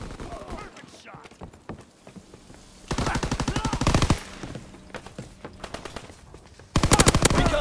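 Covering gunfire in the World War II shooter game Call of Duty WWII comes as loud, rapid machine-gun bursts, two long sustained volleys and scattered shots between them, with voices calling out in the mix.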